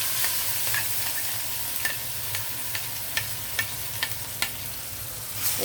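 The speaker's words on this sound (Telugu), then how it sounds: "కరివేపాకు వేస్తే చిటపట్లు ఆడుతుంది కదా" Curry leaves tempering in hot oil in a pan, a soft steady sizzle with faint crackles and pops recurring through the stretch, close and fairly quiet with no talking.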